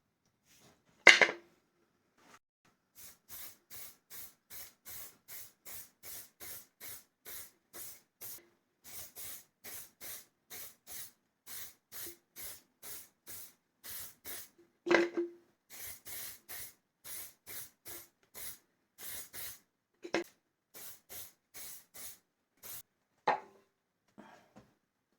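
Lacquer sprayed onto a sanded, turned laurel wood piece in many short aerosol hisses, evenly spaced bursts of about half a second repeating steadily, with a few louder knocks and clatters in between, all quite faint.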